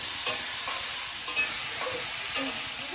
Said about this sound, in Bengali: আলুটা ভাজা হতে থাক